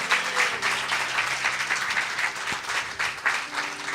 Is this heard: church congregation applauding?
yes